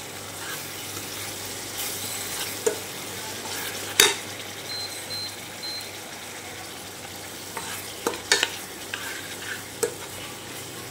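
Masala with garlic paste stirred and frying in a pan for shev bhaji, a low steady sizzle with occasional scraping spoon clicks and brief knocks, no voices.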